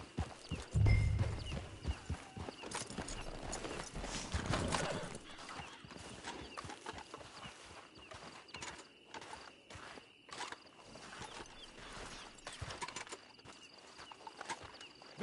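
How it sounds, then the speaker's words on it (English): Horse hooves clip-clopping at a walk in a PS4 video game, a quiet uneven series of hoofbeats near a camp and hitching post, with soft ambient game sound around them. "It's your horse."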